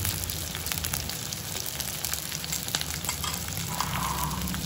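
Onion sizzles steadily in hot oil with crushed garlic, dried chillies and curry leaves for a Sri Lankan pineapple curry, giving a close, continuous crackle with small stirring scrapes.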